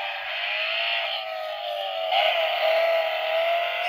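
Recorded car engine sounds played from a toy steering wheel button, a steady electronic-sounding engine drone with slight rising pitch, loud and continuous, no talk over it.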